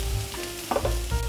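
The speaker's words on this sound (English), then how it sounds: "So I'm frying the ginger garlic with the onions just to get rid of the raw taste of the garlic." Ginger, garlic and onions sizzle in a frying pan, a soft steady crackle broken by a couple of brief stirring scrapes, close and without talk.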